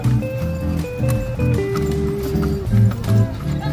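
A pregnant mare's hooves clip-clop in a steady, close rhythm, mixed with other sounds and a possible whinny, while people talk nearby.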